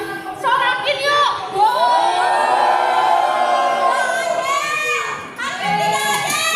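A crowd of protesters outside a court shouts and jeers together in a sustained, loud collective roar that swells and fades, with a short dip before rising again.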